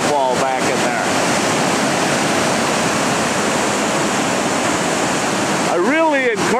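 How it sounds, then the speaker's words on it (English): Foster Falls, a waterfall swollen to a major flow, roars as a dense, steady wash of falling water throughout, close and loud, with brief bursts of talk at the start and end. "That's now a major waterfall back in there."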